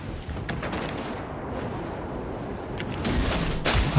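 Naval guns on a ship in a video game firing tube by tube: rumbling, muffled booms roll in succession, and sharper, louder blasts close the short stretch.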